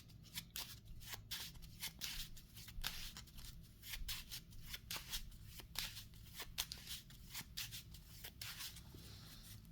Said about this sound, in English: we have to shuffle our discard pile back into our new deck